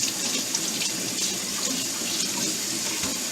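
Running tap water splashing steadily into a sink as a spoon is rinsed in a kitchen, a close continuous hiss and patter with no talking.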